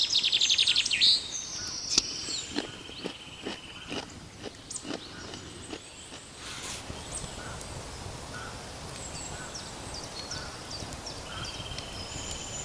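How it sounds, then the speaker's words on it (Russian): Birds chirping outdoors, with a few sharp calls early on, then a steady background of birdsong and outdoor ambience. "пение птиц добавляет особого шарма всей этой обстановке"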